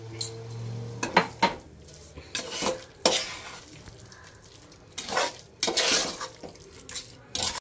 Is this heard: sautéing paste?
yes